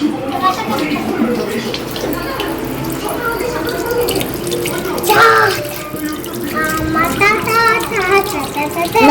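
Tap water runs steadily into a sink while a child washes hands, with an adult and someone talking over the flow throughout.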